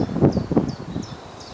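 Steady wind blows across a fishing pond on a calm morning, a soft rushing buffet against the microphone, close and fairly loud, with faint high bird-like chirps above it.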